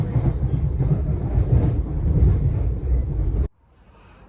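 Train carriage interior on a roughly 25-minute rail run up to Three Bridges, a steady loud rumble of wheels and motion with wind-like noise, cutting off abruptly near the end into near quiet.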